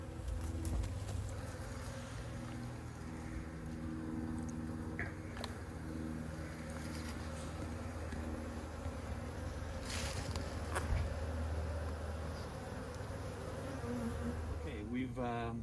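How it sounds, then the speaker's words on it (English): Dense buzzing of many honey bees covering a hive frame during a hive inspection, a steady close insect hum that continues throughout with no talk. "there's a lot of bees on here, which is good coverage"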